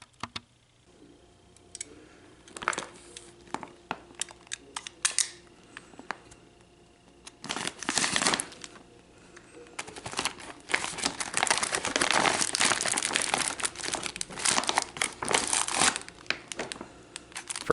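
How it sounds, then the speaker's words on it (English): Plastic MRE pouch for chili and macaroni being cut open and unpacked, with sparse crinkles and ticks early on, then a long dense burst of loud crumpling and tearing packaging close by, no talking. "we're going to cut it open and find out what's inside of it anyway"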